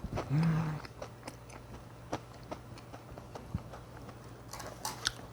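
Someone eating fried chicken dipped in sweet sauce, close-up, with soft crunching and chewing bites spaced through the clip after a short murmured hum at the start.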